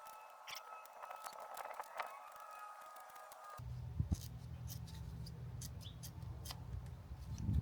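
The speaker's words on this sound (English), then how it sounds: "I happen to have a few pairs of sheet metal scissors, so I'm just gonna trim it to the length that I want." Sheet metal scissors snip a coilover dust boot on a BMW F3X, a series of faint close ticking cuts, with a low background hum joining partway through.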